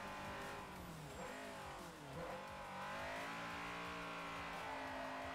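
A Honda Civic in Forza Motorsport 4 runs at a constant loud engine drone, and the revs rise and fall as the front-wheel-drive car slides into oversteer, with faint tyre squeal over it.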